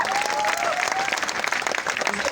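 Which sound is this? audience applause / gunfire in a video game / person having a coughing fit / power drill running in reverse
audience applause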